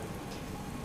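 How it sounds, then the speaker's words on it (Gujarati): Heavy rain pours over the pilgrimage town of Ambaji during hours of flooding, a dense, steady hiss of falling water that fills the brief moment without any voices. "સતત 3 કલાકથી આ વરસાદ વરસી રહ્યો છે"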